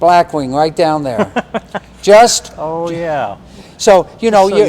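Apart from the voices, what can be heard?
No everyday noise stands out behind the speech.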